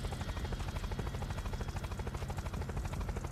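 A helicopter in the video game Unturned, its rotor thumping in a fast, steady pulse with a constant engine whine, loud and close, no voices.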